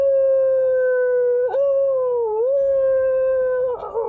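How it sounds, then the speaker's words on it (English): A long, wolf-like tonal howl, loud and sustained with a few wavering dips, then trailing off at the end. "the howl that normally you would think would be a wolf"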